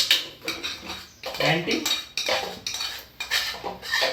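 Silver plate and bowl handled at home, with repeated metallic clinks and scrapes of silverware against dishes, close and moderately loud, in uneven bursts throughout.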